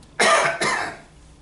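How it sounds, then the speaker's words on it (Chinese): A person gives two quick, harsh coughs close up, the first louder, then a brief trailing breath. "想咳嗽了，想咳嗽了"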